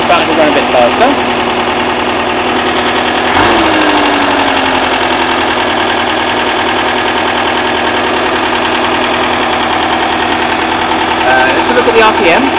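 Small petrol engine with contact-breaker points ticking over, its idle rising slightly in speed; a steady close, mid-pitched running drone with a whining harmonic, continuous throughout.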